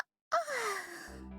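A girl character in the visual novel game If My Heart Had Wings lets out a single soft, drawn-out yawn with a falling pitch, close and quiet, with no other voices.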